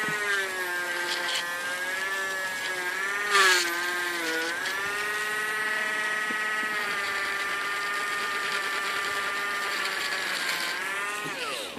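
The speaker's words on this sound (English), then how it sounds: "Wire brushing it with the tiny Dremel" A small Dremel rotary tool with a wire brush on a quarter coin gives a steady, thin whining hum that bends slightly in pitch as pressure changes, with a short rougher scuff partway through.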